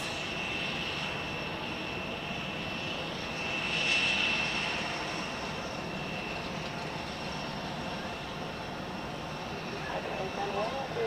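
A Lufthansa airliner at pushback on the apron at Zurich Airport, its engines giving a steady broadband hum with a whining tone that swells briefly, alongside light talk in the background.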